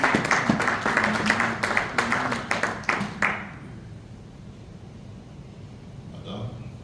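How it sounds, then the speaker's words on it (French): Applause at a gala award ceremony in Pointe-Noire: a burst of clapping with sharp individual claps over the first three seconds, then fading to quiet room noise with a faint voice. "Sous vos acclamations"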